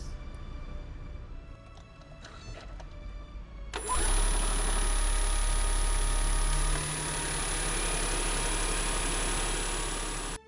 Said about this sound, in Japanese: こちらガソリンでエンジンを動かして、それが発電して駆動はモーター駆動になります